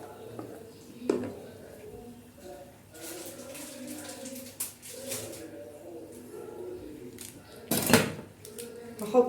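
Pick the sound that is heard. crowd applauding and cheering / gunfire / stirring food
stirring food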